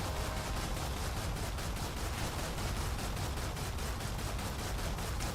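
Rapid automatic gunfire from slug ammo in a shooter video game, a dense continuous burst of shots firing at an enemy, loud and steady throughout with no talking.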